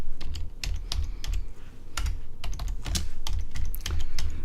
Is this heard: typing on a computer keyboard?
yes